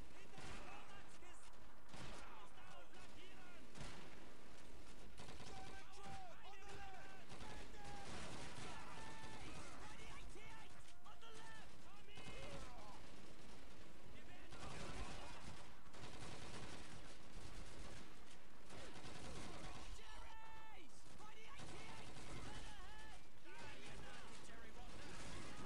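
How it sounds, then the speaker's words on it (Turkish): Dense automatic gunfire and explosions from the Call of Duty 2 mission The Diversionary Raid rattle on continuously, a busy battlefield din with someone speaking over it at times. "Buradan kim sıkıyor?"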